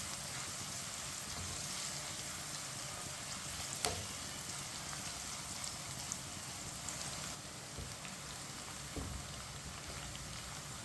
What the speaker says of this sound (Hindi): प्याज को हल्का सा ब्राउन कर लेंगे। ऐसे ही चम्मच लाते हुए इसे ब्राउन करना है।